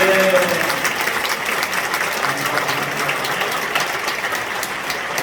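A church congregation applauds steadily at an Easter union worship service in Jeonju, with dense, even clapping that holds at a constant level for the whole stretch, while faint voices and tonal sounds show briefly at the start.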